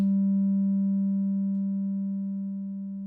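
A steady sine-like synthesizer tone from a VCV Rack patch holds a single pitch alone while its level slowly falls as the VCA is turned down, fading gradually over a few seconds.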